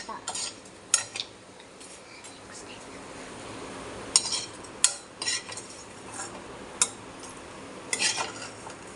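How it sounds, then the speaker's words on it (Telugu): Bread slices frying in hot oil in a pan, a soft low sizzle broken by scattered metallic clinks and scrapes of a utensil against the pan. "ఫస్ట్ అయితే మనం బ్రెడ్ని వేపుకోవాలి, ఇట్లాగా ఆయిల్లో వేపుకోవాలన్నమాట."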